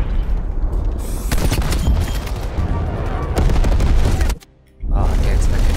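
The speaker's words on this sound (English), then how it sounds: "Artillery inbound." Artillery strike explosions in the video game Black Ops Cold War: loud, continuous booming blasts and rumbling, with a short drop-out near the end before the din resumes. A voice is heard over it.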